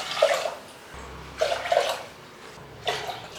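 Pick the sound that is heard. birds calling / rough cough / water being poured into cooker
water being poured into cooker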